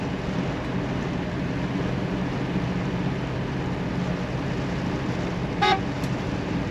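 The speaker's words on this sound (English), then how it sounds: "The factory horn is working." The factory horn of a 1955 Mercury Montclair gives one short, clear toot near the end, rising over a steady low running rumble.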